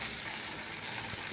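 Close, even sizzle of chili powder dropped into a hot pan of frying okra and cumin, a dense hiss lasting about a second with no voices.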